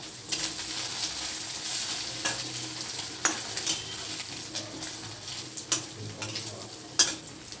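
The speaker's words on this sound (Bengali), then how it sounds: "হাজব্যান্ডের জন্য এখন ডিম ভাজছি" Eggs fry in a pan in a home kitchen with a steady, close sizzle broken by scattered stirring clicks and scrapes, with no talking.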